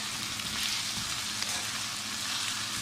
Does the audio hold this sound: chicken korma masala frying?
yes